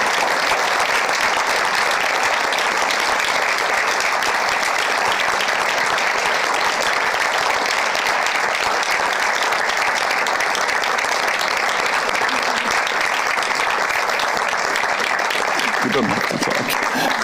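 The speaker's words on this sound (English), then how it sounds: "Please come here, give her a big applause" Loud, sustained audience applause for Arantxa at a makeathon final-pitch event held in a museum, with dense clapping and crowd noise that runs continuously throughout and eases slightly near the end.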